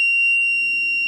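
An Arduino-built fire alarm buzzer sounds a loud, steady, piercing electronic tone, unbroken and alone throughout.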